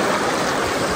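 Water pours down at Noori Waterfall in Pakistan, a dense, loud, continuous rushing roar heard up close with no break.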